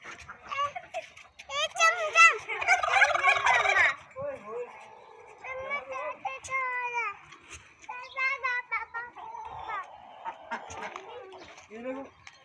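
Turkeys gobble loudly in bursts, rapid warbling calls overlapping one another, with a voice and other bird sounds in between.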